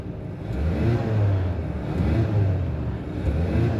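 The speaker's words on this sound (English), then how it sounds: "let's go ahead and see if we can hear a little bit of this 2-liter turbocharged engine" A 2025 Ford Maverick Lobo's 2.0-liter turbocharged engine idles and revs with a steady low rumble, rising and falling slightly, heard up close with no talking.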